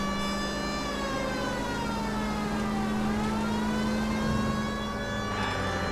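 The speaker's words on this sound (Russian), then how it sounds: "Включим сирену." A police car siren wails continuously in the video game L.A. Noire, a steady tone that sweeps through its cycle over an unbroken, loud bed of engine and traffic noise, with no one talking.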